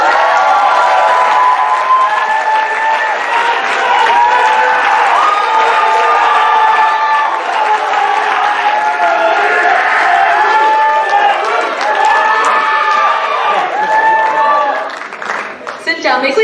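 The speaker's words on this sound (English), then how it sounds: "Please join me in giving the wonderful Angel and Shillian a warm round of applause." A large audience at a university Vietnamese culture show claps and cheers loudly for the show's two directors, with whoops and shouts over sustained applause that fades near the end.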